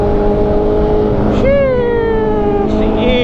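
A 400cc motorcycle engine rises in pitch and roars past at speed on an open city road around 1.5 seconds. A rider's own engine drones underneath, and a second rev follows near the end.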